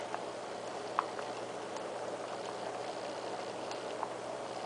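Barley soup with kashk and beans simmering uncovered in a pot, a steady low bubbling and gentle patter close by with a few faint pops, no voices.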